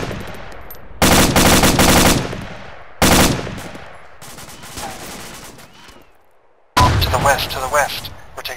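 Loud, close bursts of automatic gunfire in an Arma military shooter, three long sustained volleys separated by quieter gaps with distant shots and a faint voice.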